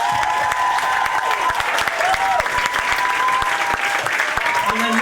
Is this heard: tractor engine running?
no